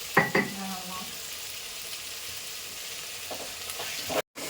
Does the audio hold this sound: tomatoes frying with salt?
yes